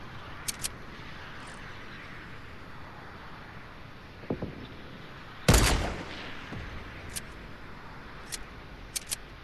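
Gunfire in Fortnite: scattered single shots and one louder, closer blast near the middle, with sharp distant cracks spaced irregularly over a quiet low background.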